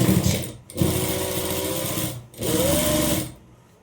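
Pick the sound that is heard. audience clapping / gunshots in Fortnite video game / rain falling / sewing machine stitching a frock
sewing machine stitching a frock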